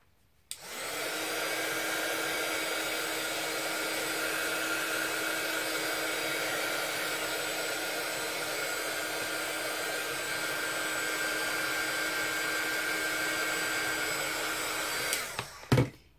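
Hair dryer blowing on a small craft piece, a steady close whooshing roar that runs almost the whole time before switching off with a short click at the end.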